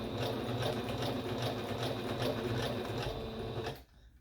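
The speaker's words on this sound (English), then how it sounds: "you're going to slowly press on your foot pedal to have it go forward" A foot-pedal sewing machine stitches fabric with a steady, rapid mechanical whir and rhythmic needle clatter close up. It runs for almost four seconds, then stops abruptly into near silence.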